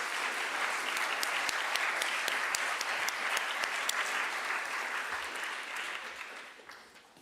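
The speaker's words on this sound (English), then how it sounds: "Could we give the panel a round of applause," Audience at a university sustainability symposium applauds a panel, a dense steady wash of clapping from many hands that holds strong for several seconds, then thins and fades toward the end.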